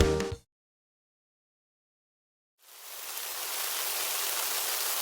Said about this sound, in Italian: Oh, piove!